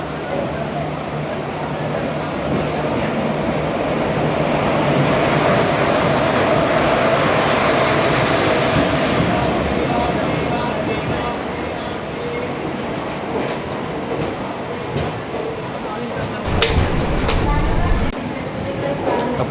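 Unreserved second-class 56603 passenger train running from Coimbatore to Shoranur, a steady broad rumble of the moving carriage with rattling wheels and clatter, loud and continuous throughout, with a few sharper knocks near the end.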